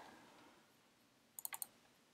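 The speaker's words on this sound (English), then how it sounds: "Click Next." A computer mouse clicked in quick succession, four crisp, quiet clicks close together after a near-silent pause, with no talking.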